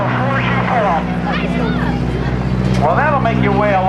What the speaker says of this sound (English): Watch as Bill dives down.